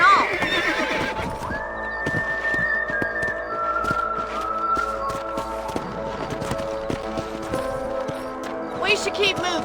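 Horses in Red Dead Redemption whinny loudly at the start, then hooves clip-clop in a steady rhythm as the riders move off, with game music and a brief voice underneath.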